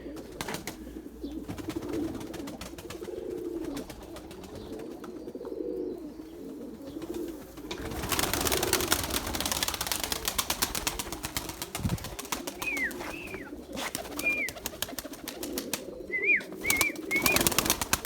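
Erzurum white pigeons, a purebred breeding flock, coo in soft repeated rolling calls close by, with a burst of louder rustling and wing noise midway and a few higher chirps later.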